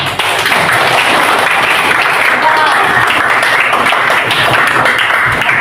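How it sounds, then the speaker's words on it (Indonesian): A classroom audience of students applauds in a dense, continuous burst that lasts several seconds, with voices mixed into the clapping. "Boleh beri tepuk tangannya?"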